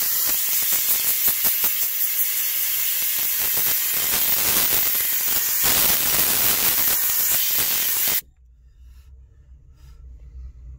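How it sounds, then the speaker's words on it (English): A steam cleaner blasts a loud, steady hiss of steam into an upholstered seat, surging and pulsing for several seconds before cutting off abruptly, leaving a low background hum. "I'm gonna push steam into it first."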